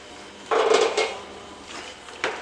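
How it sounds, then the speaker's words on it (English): Lift Boss kit part being fitted onto the nut mounted on a winch box, with a clattering metallic clunk of handling and a second short knock afterward, close and alone. "insert it on that nut that's mounted on the winch box"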